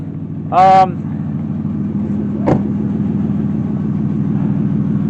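A 2005 Honda Pilot engine running steadily without revving above 3000 rpm, a continuous low idle-like drone close by, with a brief tonal chirp early and a sharp click midway.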